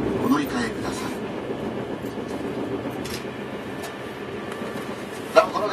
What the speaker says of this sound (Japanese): この電車は難波駅到着後すぐに快速列車として発車いたします。